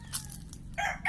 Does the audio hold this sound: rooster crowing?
yes